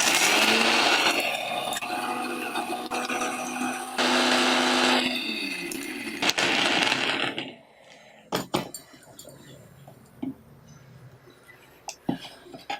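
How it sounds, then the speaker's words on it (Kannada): A wet grinder grinding masala for ambode, giving a loud steady whirring churn for about seven seconds that then stops, followed by quieter clinks and handling noises. "ಇದನ್ನು ಈಗ ರುಬ್ಕೋತೀನಿ. ಈ ಮಸಾಲೆ ಎಲ್ಲ ಮೊದಲು ರುಬ್ಕೋಬೇಕು,"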